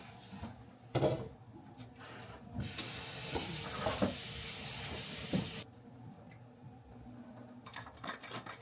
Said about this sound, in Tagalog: Haluin lang natin ang bonggang-bongga.